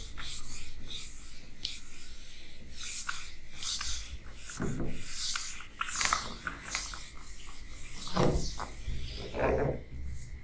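Eraser or duster rubbing writing off a classroom board during a maths lecture, a run of rasping scrubbing strokes at close range, uneven in rhythm, with no talking over it.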